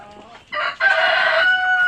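Young chicks in a brooder give a short burst of loud, close, raspy crowing-like cheeps that rise and hold for about a second, with faint chick calls just before.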